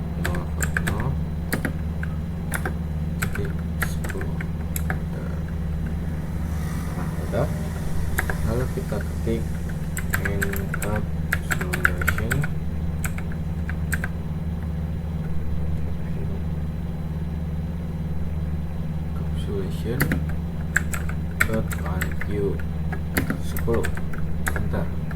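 Rapid keystrokes on a computer keyboard enter an IP address while configuring VLAN 10 for inter-VLAN routing, clicking steadily in bursts over a constant low engine-like hum, with speech in places.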